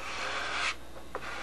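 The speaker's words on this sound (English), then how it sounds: "I want to take the big flat block again and just go over each cap strip" A big flat sanding block rubs over the wooden cap strips of a Spitfire model plane wing, a close, raspy stroke that stops abruptly, followed by a quieter scrape and a tiny click.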